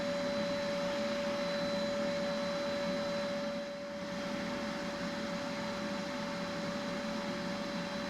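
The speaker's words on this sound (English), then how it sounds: "So I thought I'd use the vacuum on it." A vacuum cleaner runs under a 1975 Chevy Vega, giving a steady, close, loud whooshing drone with a constant high whine that dips briefly midway and then holds at even level throughout.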